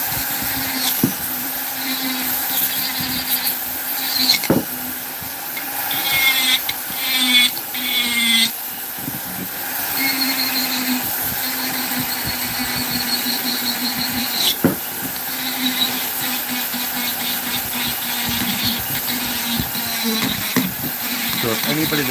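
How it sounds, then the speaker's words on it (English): A Vevor 1200 flexshaft rotary grinder carves wood, with a steady high whine and buzzing grind that rises and dips in pitch as the bit bites and eases off, continuous and fairly loud throughout. "the grinder I'm using here is the vevor 1200 flexshaft"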